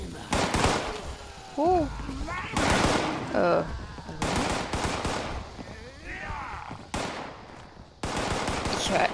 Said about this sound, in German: weil ich höre hier Schüsse und Supermutanten